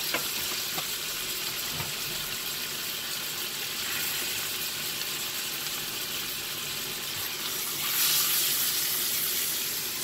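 A ribeye steak, cooked sous vide for five hours at 129°F, sears on a hot skillet with a steady, close sizzling hiss that runs unbroken and swells briefly louder near the end.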